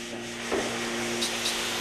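Drywall being hand sanded produces a short burst of dry rubbing scrapes, two or three strokes close by, with a faint background hum and no voice.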